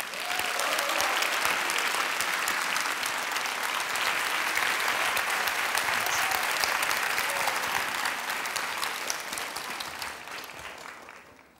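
Warm applause from a lecture audience welcoming a speaker, dense sustained clapping filling the hall that slowly fades out at the end.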